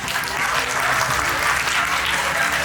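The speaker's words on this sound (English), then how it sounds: "Let us show our gratitude with a round of applause" Dense, steady applause from a school conference audience at a model UN event, a continuous wash of many hands clapping close and loud throughout.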